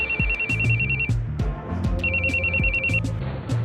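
A mobile phone's ringtone plays during a call to the police, repeating in two bursts of bright electronic tones over low background sound, with no voices.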